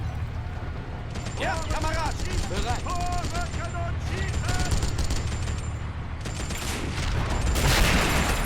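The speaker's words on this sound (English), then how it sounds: "Sounds like a Bren gun from one of the other trenches" Bren gun fire in Men of War: Assault Squad 2 during a 1940 Dunkirk battle, with steady rattling automatic bursts from a distant trench mixed into the dense battle noise, and game voices calling out over it.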